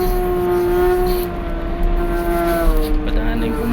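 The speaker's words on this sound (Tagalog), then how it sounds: "Padaanin ko muna yung truck." Gravel-hauling truck passing close by on a rural road, a steady loud engine drone with a sustained tonal whine that shifts in pitch as it goes past, with no speech.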